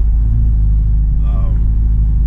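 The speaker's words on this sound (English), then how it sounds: "she can't take the drone from the exhaust" Heavy low exhaust drone inside a Dodge Charger while driving, a loud constant rumble filling the cabin with a brief faint voice over it.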